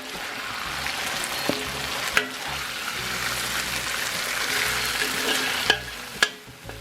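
Ginger and garlic frying in leftover oil in a wok after chicken for chow mein, a steady crackling sizzle with a few sharp clinks of a utensil against the metal, close and continuous.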